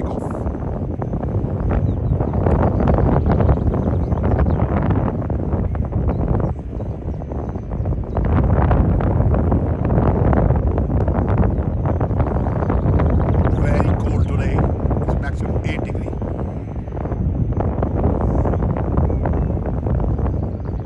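Heavy wind buffets the microphone at Leeds Bradford Airport as an airplane begins its takeoff run, loud rumbling gusts rising and easing in waves, with a voice speaking intermittently over it.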